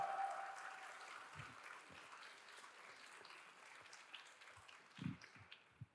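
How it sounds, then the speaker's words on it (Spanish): Audience applause at a panel discussion event, soft and distant, a broad patter of clapping that thins out, leaving a few scattered claps and thumps toward the end. "Otro fuerte aplauso para Andrés Treviño, por favor."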